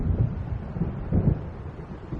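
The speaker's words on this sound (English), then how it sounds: "It seems there's a storm coming." Low, rumbling thunder and gusting wind from an approaching storm in Alan Wake, deep swells rolling in a few times over a windy, muffled backdrop.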